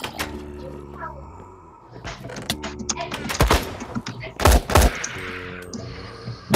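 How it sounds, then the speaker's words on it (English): Rapid bursts of video game gunfire crackle through the second half, loud sharp volleys with some single shots, layered under game sounds and excited chatter from players. "Who's shooting who and why?"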